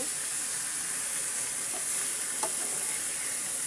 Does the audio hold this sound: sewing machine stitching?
no